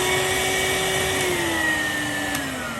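A refurbished Henry hoover vacuum cleaner with a healthy motor runs steadily and loudly close by, its whiny hum sliding slowly lower in pitch with no pauses and no talking.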